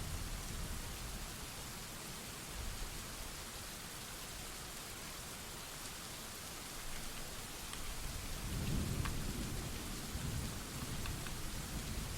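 Steady rain hisses as a dense, even wash of noise, with a faint low rumble swelling briefly near the end.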